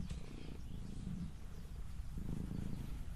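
A house cat purrs close by in a garden while prairie plants are being potted, a steady low rumbling purr that swells and eases in soft cycles with no talk over it.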